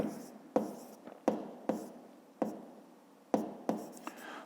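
A pen writes on paper during a fifth-grade math exercise, close and quiet, with sharp taps and short scratchy strokes in an irregular rhythm and no speech.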